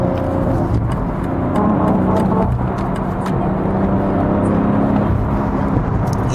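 A BMW M340i xDrive, all-wheel drive with over 350 horsepower, accelerates hard, its engine and road roar loud and steady throughout with no voices.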